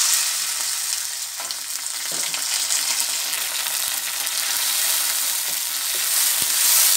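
Spice paste and a bay leaf frying in hot oil for a potato curry with onion greens, giving a loud, steady, close sizzle with occasional soft knocks of stirring and no talking.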